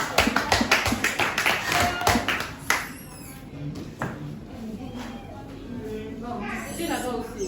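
A small group claps for Franck at a session on working with children with special needs, a short burst of close, distinct hand claps that fades quickly into talking and room noise.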